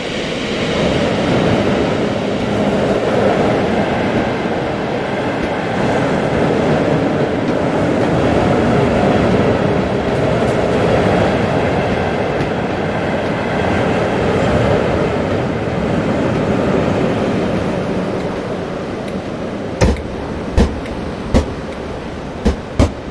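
Merchant Navy steam locomotive 35028 Clan Line passes on a charter train with diesel 47593 trailing at the rear, a long loud rolling roar followed by a few sharp rail clicks at the end.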